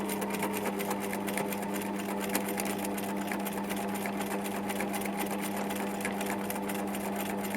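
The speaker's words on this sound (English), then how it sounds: "just mend it with a machine" Sewing machine stitching back and forth to close a hole while mending a Japanese-style jacket, a steady close whirring hum running continuously at even loudness.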